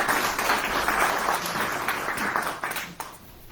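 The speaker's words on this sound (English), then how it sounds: "Yes, round of applause for Monterey." Audience applause at an in-person health care speaker event in a recreation center, a dense, steady round of many hands clapping that holds for several seconds before tapering slightly toward the end.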